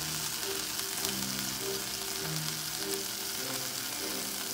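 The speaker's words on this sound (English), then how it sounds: "I'm just going to saute the onions with the olive oil in here just a little bit" Onions sautéing in olive oil in a pan, giving a steady, soft, close sizzle and crackle that runs evenly throughout with no talking.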